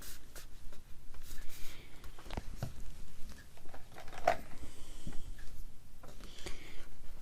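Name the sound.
folding glued paper with a Teflon bone folder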